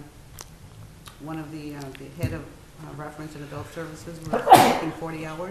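A single sharp sneeze bursts out close by during a finance committee budget meeting, interrupting people talking in a meeting room.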